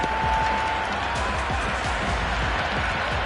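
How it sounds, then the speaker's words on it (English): Noisy crowd at a T20 cricket match between India and New Zealand, a steady dense roar of voices with scattered claps and cheers, heard from within the stadium. "the crowd have joined the party. It's pretty noisy at the ground."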